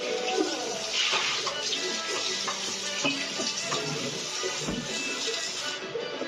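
Water runs steadily while something is washed, a continuous hiss and splash at close range with faint clatter mixed in.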